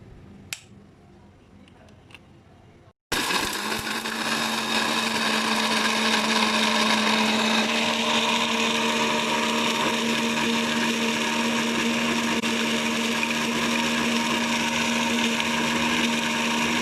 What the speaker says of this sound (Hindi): इसको ग्राइंड करके फिर आपको दिखाती हूँ कि ये किस फॉर्म में आ जाएगा।